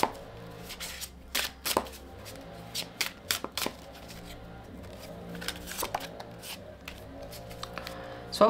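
Symbolon cards are shuffled by hand in repeated quick riffles and slides, crisp papery bursts in irregular clusters, close and clear in a quiet room.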